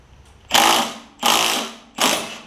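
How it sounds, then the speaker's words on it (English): A puller tool works a part off a John Deere E140 lawn tractor in three evenly spaced, grinding ratchet-like bursts, each loud and close and fading out before the next. "So I've got the tool hooked up here, the puller. We're just gonna pull this off."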